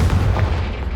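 A Confringo fire spell from the Hogwarts Legacy video game lands as a short, deep, muffled boom that rumbles close and loud for about a second, with no talking.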